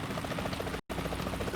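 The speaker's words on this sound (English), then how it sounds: "Is that a chopper I just heard?" A helicopter in the video game Metal Gear Solid 2 gives off a steady, dense rotor chop that fills the moment, loud and continuous apart from a brief dropout.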